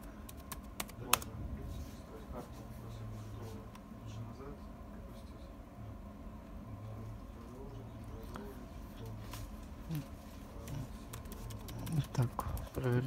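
Laptop keyboard keys being pressed during a key test, a series of soft clicks in uneven rhythm, close by, over a low background hum.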